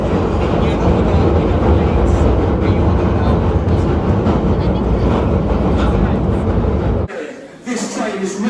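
Loud, steady rumble and rattle of an underground train running through a tunnel, with clatter throughout; the noise drops abruptly near the end.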